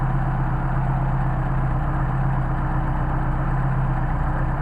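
A Mercedes 190SL engine idling on Solex carburetors, a steady, close, continuous low rumble with no talk over it.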